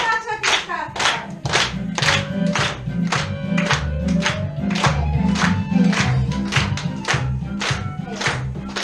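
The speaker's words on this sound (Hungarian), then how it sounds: "tapsot is kaptak" An audience at a kindergarten year-end show gives the children a sustained round of brisk hand clapping, dense and close, with a few voices calling out over it.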